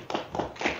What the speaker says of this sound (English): I did clap for it